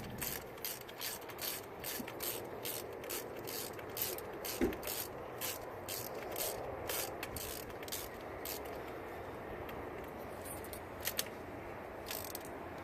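Repeated ratchet clicks as a socket wrench tightens a spark plug into an engine, a steady run of sharp, close clicks with brief pauses between strokes.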